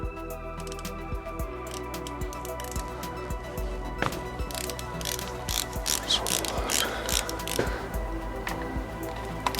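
Ratchet wrench clicking steadily while loosening the 8 mm hex dry-sump drain plugs on a Lamborghini Murcielago, close up, with brief metallic knocks mixed in.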